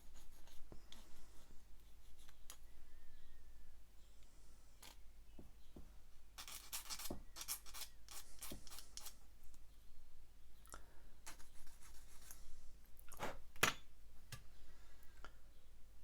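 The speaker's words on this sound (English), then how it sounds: "So let's get the sprue nibs off this." Small cutting and scraping sounds as sprue nibs are trimmed from plastic parts of a 1/48 scale Bandai Star Wars AT-ST model kit, with quiet intermittent clicks and snips close by and no talk.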